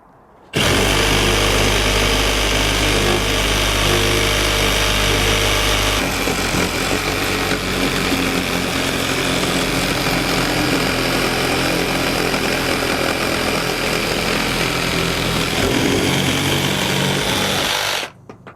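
A Milwaukee M18 Fuel 2nd Gen Sawzall 2821-22 reciprocating saw cuts through pressure treated 4x4 lumber, a loud, steady, buzzing roar that runs continuously for about seventeen seconds, with a deeper load in the first stretch before it settles.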